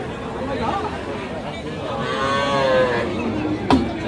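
Calves and young cattle low in drawn-out moos amid the chatter and hubbub of a crowded outdoor cattle market at Aftabganj, Dinajpur, with people talking throughout.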